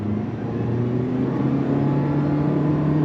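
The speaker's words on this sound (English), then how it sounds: "On throttle, here we go." A 2025 Toyota Prius hybrid pulls away from a stop under throttle, its engine drone steady and rising slightly in pitch as it accelerates, heard from inside the cabin at moderate loudness with no speech.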